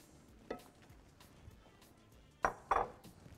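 Boiled macaroni with garlic and olives being stirred in a pan, a few quiet scrapes and sharp metallic clinks of a utensil against the pan, close and sparse.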